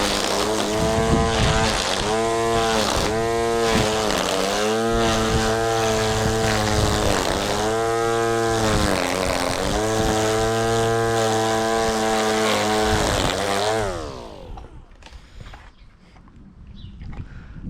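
A Ryobi 36V battery grass trimmer cutting grass in a garden, a loud, steady high-pitched motor whine that wavers as it works, then drops away and winds down near the end, with no talking.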